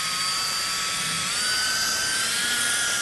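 A car polisher fitted with a focus pad, working polish over a scratched finish, spins with a steady high whine whose pitch slowly climbs as it is brought up to speed, close and alone.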